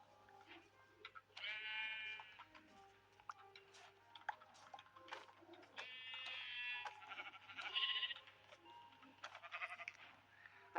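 Repeated quiet sheep bleats rise and fall in a video game, several separate wavering calls over soft ticking and clicking, with a faint steady hum underneath.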